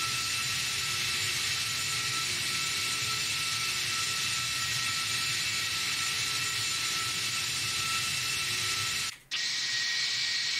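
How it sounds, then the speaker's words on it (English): Boeing 757 jet engines in the Prepar3D flight simulator, a steady loud broadband roar with a high whine, continuous for about nine seconds before a brief dropout, then resuming. "Engine sounds so much different now."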